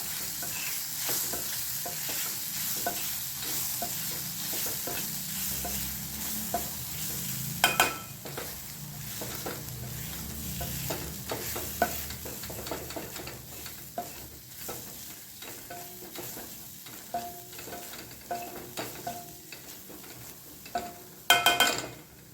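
Green-pea kachori filling cooks in a pan, a steady close sizzle under frequent scraping and tapping of a spatula as it is mixed.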